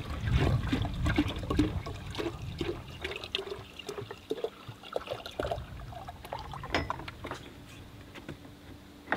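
Water runs from the tap of a jerry can used for drinking-water storage on a 4x4 touring setup, a steady trickling pour with splashing that lasts several seconds and stays close and moderately loud.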